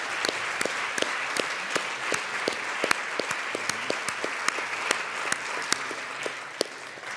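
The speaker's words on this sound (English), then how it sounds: "Let's give them a round of applause." Applause in a state legislative chamber, with individual sharp claps standing out distinctly against a steady bed of clapping and a faint low murmur underneath, holding evenly throughout.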